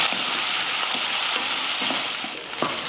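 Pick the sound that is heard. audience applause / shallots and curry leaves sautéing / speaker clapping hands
shallots and curry leaves sautéing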